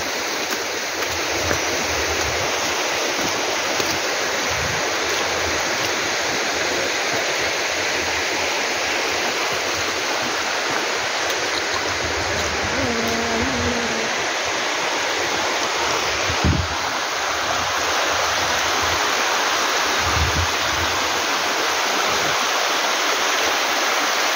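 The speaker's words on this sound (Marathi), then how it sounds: "फेसाळलेलं पाणी आणि छान असे धबधबे" Small foaming waterfalls on a jungle trail in Tamhini Ghat, heard as a continuous loud broadband rush of falling water, near and unbroken for the whole stretch, with faint wind buffeting the microphone.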